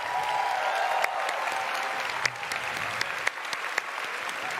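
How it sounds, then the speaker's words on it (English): Audience at the QuakeCon 2018 keynote applauds the volunteers, a steady, loud wash of clapping from a large crowd with a few sharper claps and whoops breaking through near the end. "a round of applause for the volunteers"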